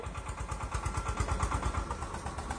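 A tractor engine runs on a road at night, a steady rapid chugging throb with a rough mechanical rattle, loud and close and continuing without a break.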